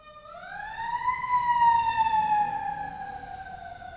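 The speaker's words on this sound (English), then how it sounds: "it's a siren." A wailing siren of the kind used by emergency vehicles rises in pitch, then slowly falls, heard alone, steady and moderately loud for several seconds, with no voices.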